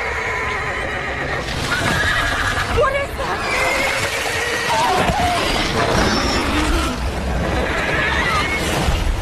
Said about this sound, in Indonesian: terdengar suara berisik kuda dari luar